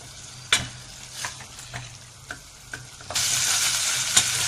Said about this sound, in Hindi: अब अच्छे से इसको हमने 1 से 2 मिनट भूनना है, इसी में हमारा ये चिकन गल जाएगा।